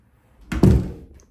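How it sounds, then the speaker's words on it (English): A bathroom door in a rented apartment swings shut with a single close, solid thud and a brief low rumble after it, and no voices. "And close the door."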